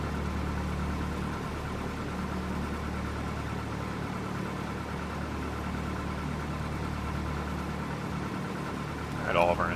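A Cessna 172 engine idles steadily in Flight Simulator X before departure, a constant low droning hum that holds level throughout, with a brief higher-pitched sound at the very end.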